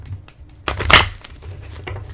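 Tarot and oracle cards are shuffled close by, a brief burst of riffling and sliding card stock in the middle, with soft scattered taps and rustles around it.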